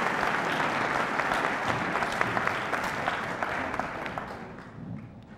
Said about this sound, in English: May I have another round of applause for Mr.